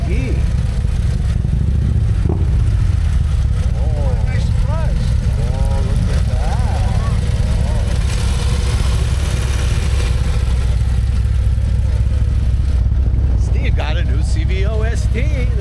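Motorcycles pulling in with a 2024 Harley CVO ST engine idling, a loud, close, steady low rumble throughout, with people talking over it.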